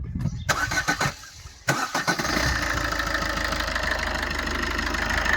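The diesel engine of a 2018 Maruti Suzuki Swift VDi cranks with a few sputtering turns, catches, and settles into a steady, rough idle close by.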